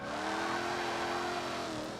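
A car engine revs steadily in a video game, a loud continuous motor drone with faint tire noise holding for the whole stretch, with no talk over it.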